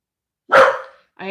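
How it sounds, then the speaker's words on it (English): A pet dog lets out one sharp, loud bark close by, followed a moment later by the start of a voice. "That's my dog."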